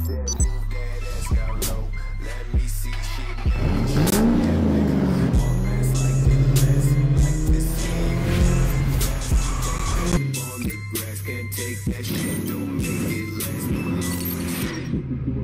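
A car being restored for rust repair is driven into a garage, its engine rising and falling in a steady, close rumble with occasional clinks and knocks throughout.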